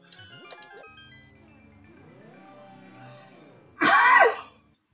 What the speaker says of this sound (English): Pardon my cough.